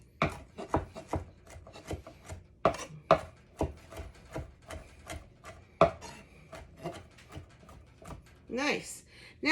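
Herbs are chopped with a knife on a board for a focaccia, giving rapid close, crisp knocks in an uneven rhythm, with a voice talking in between.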